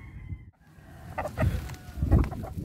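Large Asil (Aseel) chickens on a farm, clucking in short, close bursts, with low throaty calls rising and falling over a couple of seconds.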